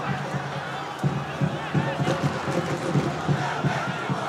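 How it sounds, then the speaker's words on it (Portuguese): A football crowd at the River versus Parnahyba semifinal of the 2024 Piauiense championship protests a referee's call: a dense, steady roar of many voices with rhythmic chanting pulses, heard from a distance. "A torcida fica na bronca dizendo que não saiu."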